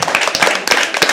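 Audience at a poetry open mic at The Habitat clapping together, a dense, close burst of handclaps filling the whole moment with no pause.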